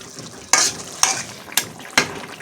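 Tilapia fish curry with bitter gourd is stirred in a pan, four distinct scraping strokes about half a second apart over a low simmering sizzle, close by.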